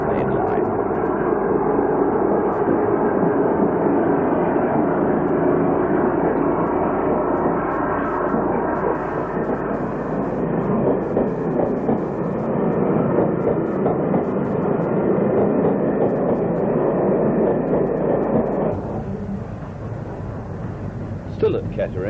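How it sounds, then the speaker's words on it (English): Peak class diesel locomotive 45147 leaves Kettering station on the Midland Main Line, with a loud, steady engine roar and rumble that holds for about eighteen seconds and then fades, while a narrator talks over it. "Peak number 45147 departs from Kettering Station on the Midland Main Line."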